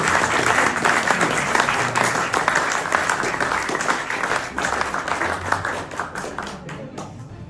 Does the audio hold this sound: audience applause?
yes